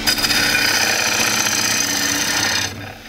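A bowl gouge cuts wood on a lathe, a loud continuous rough rasping and chattering drone that holds steady and then cuts off near the end.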